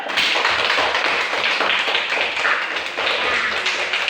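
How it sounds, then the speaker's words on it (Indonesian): A classroom of students claps hands together in a dense, continuous patter of many overlapping claps, fairly close and steady for a few seconds. "Kita tepuk tangan sekali lagi dulu."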